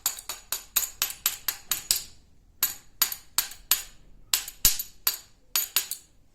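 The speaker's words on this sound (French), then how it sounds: "Et avec le marteau, on finit." Sharp metallic hammer strikes finish the flared end of a pipe, a quick run of about eight evenly spaced blows, then a pause, then further bursts of ringing taps, loud and close.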